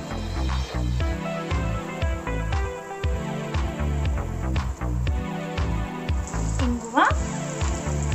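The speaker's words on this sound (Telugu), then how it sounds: "పోపు అంతా కూడా చక్కగా వేగాలండి" Mustard seeds, cumin, urad dal and chana dal fry in hot oil for a tempering, giving a steady crackling sizzle with intermittent stirring scrapes, while music plays underneath.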